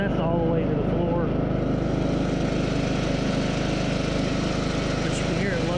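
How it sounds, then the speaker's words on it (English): Loud, continuous engine drone of a John Deere L100 series riding mower lugging under load, a steady heavy rumble with no break throughout. "you can hear it lugging the engine"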